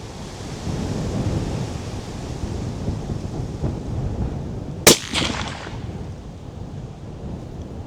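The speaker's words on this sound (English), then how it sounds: "I'm gonna go ahead and shoot this, and we're gonna take a couple shots of the TAC 33 that's on there right now." A single sharp suppressed shot from a .338 Lapua Magnum rifle fitted with a TAC 33 silencer cracks out about midway, with a short decaying echo, over steady outdoor wind-like background noise.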